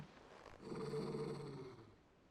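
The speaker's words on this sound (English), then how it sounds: "He growling at me." Torgal, a wolf in the video game Final Fantasy 16, lets out a low sustained growl that swells then fades over about a second and a half, close and moderately loud.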